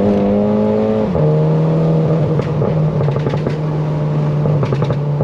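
A moped engine revs hard as the throttle opens, its pitch dropping and then holding at a loud, buzzing drone close by, with a few faint clicks and knocks.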